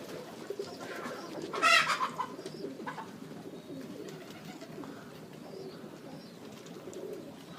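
Modoc High Mountain Zipper pigeons, a loft of young first-round birds and two old birds, cooing softly in a steady background murmur, with one brief louder burst of calls near the start.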